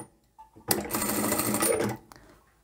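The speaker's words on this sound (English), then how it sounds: "So I'll back stitch here" A sewing machine runs in one steady burst of about a second and a half while back stitching the seam of a zippered bag with a 1/4 inch seam allowance. The sound is close and clear, with soft handling noises before and after.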